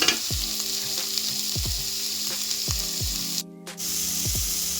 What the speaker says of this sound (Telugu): కొంచెం ఆయిల్ వేసి ఉల్లిగడ్డలు ఫ్రై చేసుకోవాలి మంచిగా ఎర్రగా ఫ్రై అయ్యే వరకు వేయించుకోవాలి